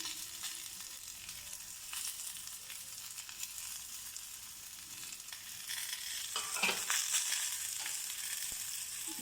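Chopped boiled egg pieces fry in an oiled pan with salt and pepper, giving a steady, close sizzle that swells louder toward the end as the pieces are stirred.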